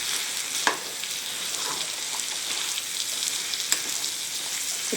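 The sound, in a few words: mutton chukka masala powder stirred in pan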